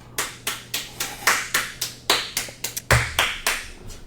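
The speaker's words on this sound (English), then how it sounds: "Golf clap." A sparse golf clap from a small studio audience, roughly a dozen separate soft claps spaced out in a slow, uneven rhythm over about four seconds, close by and unaccompanied by talk.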